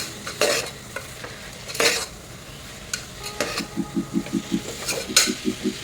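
Mushrooms fry in masala for a mushroom gravy while a spoon stirs them, sharp scraping strokes against the pan over a soft sizzle, then quick rhythmic clinks toward the end.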